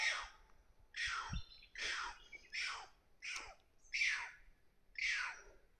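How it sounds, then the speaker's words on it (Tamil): A large bird calls outdoors near a deserted village, giving about seven harsh, downward-sweeping cries roughly once a second. The calls are faint and distant, with no voices. "ஆனால் பெரிய பறவையாக இருக்கும் போலங்க."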